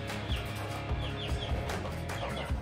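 A tolbunt Polish chicken clucking up close, a run of short repeated clucks and soft calls over about two and a half seconds, loud and alone with no speech.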